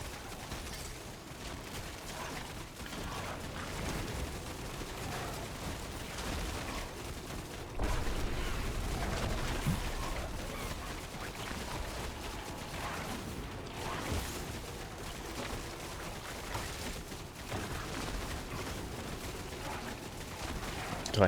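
Enemy cannon fire in the action game Hell Clock, heavy blasts and explosion bursts rising out of a constant din of combat sounds, with one louder thump partway through.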